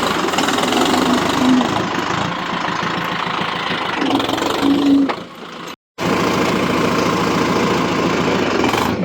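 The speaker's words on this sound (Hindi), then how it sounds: "अभी देखना ट्रैक्टर चल रहा है इसका" Tractor engine running at low rpm, a loud steady throbbing idle with slight knocking, dipping briefly and cutting out for a moment before resuming.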